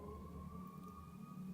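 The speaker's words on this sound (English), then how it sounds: "just distracted by the ambulances flying by" Ambulance sirens pass by at a distance, a faint steady wail heard over low background rumble.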